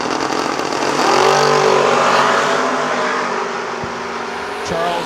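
Drag racing cars, a white Camaro against a wagon, roar down the strip with a loud, rising engine howl that peaks early, holds as a sustained blare, then tapers as they pull away, with announcer talk underneath.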